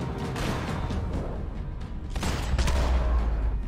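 Dense, rapid gunfire from the shooter video game Max Payne 3 fills the whole stretch: loud overlapping shots and bursts with booming low-end impacts, no talking.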